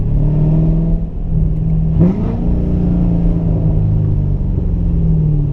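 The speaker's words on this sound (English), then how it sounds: "Listen to this. Listen. 25 miles an hour. Second to first gear." Steady loud car engine drone around 25 mph, with a brief rev spike and pitch jump as the gearbox shifts from second down to first, then the engine settles into a higher, growling hum.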